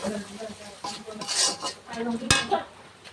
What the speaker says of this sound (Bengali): লবণ দিয়ে দিলাম দেখো একটু নাড়াচাড়া করে নিলাম